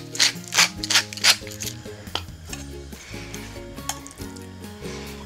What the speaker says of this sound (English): I'll cook the cod fillets on one side for about 4 minutes